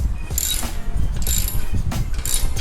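A ratchet on an extension tightens Harley-Davidson exhaust bolts, giving loud repeated bursts of clicking pawl and metallic turning in an uneven back-and-forth rhythm, close up.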